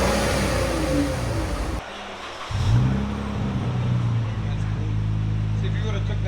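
A 2013 Dodge Charger AWD with a 3.6L V6 and Purple Hornet glass pack exhaust, its loud, close engine holding a throaty rumble that briefly dips, then swells into a rev and settles back to a steady drone.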